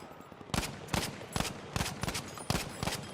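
MAS 44 rifle fired in Battlefield 5, about eight sharp distant shots in uneven bursts against quiet game ambience, with no talk.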